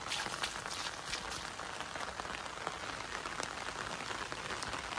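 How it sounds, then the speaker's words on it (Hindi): Steady rain falling on surfaces in a village, a dense soft patter with scattered drips, fairly quiet and continuous throughout. "ये देखो अभी तो पूरा दिन बारिश हो रही है"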